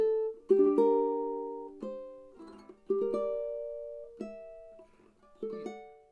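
A fingerstyle ukulele plays the outro of a song, with plucked notes and chords ringing out one by one and decaying between each, close and fairly soft.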